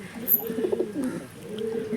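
Pigeons coo softly in a loft, with low throaty murmurs and a brief higher chirp, close and moderate in level, while faint background noise continues.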